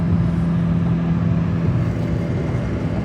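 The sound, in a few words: Nissan BE-1 car engine driving at 5,000 RPM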